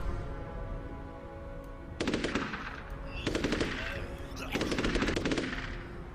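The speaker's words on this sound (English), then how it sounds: "Oh, I shoot mummies in this level." Rapid automatic gunfire in a zombie-mode video game level where mummies are shot, coming in three loud bursts that rattle out one after another with short pauses between, with no talk over them.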